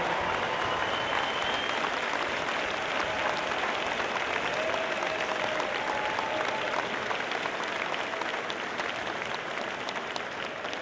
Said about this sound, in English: can we give all the mentors and coaches a huge, huge round of applause